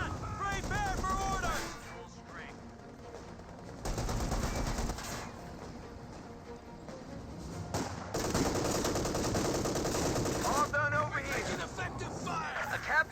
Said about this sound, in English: There's the gunfire.